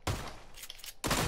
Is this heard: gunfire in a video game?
yes